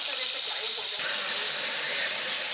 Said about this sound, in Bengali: তো মাছটা ভাজা করতেছি